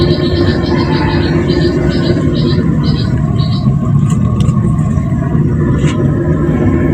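A loud, steady roaring rush of a gas stove burner at full pressure, continuous and close, with a faint intermittent whistle layered on top.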